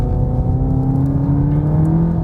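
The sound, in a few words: Seat Leon ST Cupra engine driving fast through a corner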